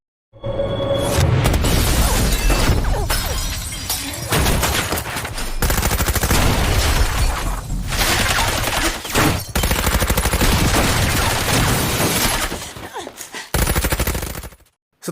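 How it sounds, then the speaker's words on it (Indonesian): A film shootout with a hail of bullets aimed at a woman: dense, loud, continuous automatic gunfire and impacts fill nearly the whole stretch, with brief gaps before it cuts off. "setelah dihujani banyaknya peluru, si pemburu ingin memastikan bahwa Anna sudah benar-benar tewas"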